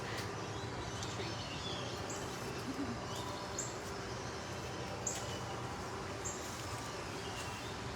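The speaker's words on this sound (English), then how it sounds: "Birds sure are making a lot of noise." Faint, sparse high chirps from birds repeat every second or so over a steady background hiss, no voices, at a big cat rescue sanctuary during Hurricane Ian.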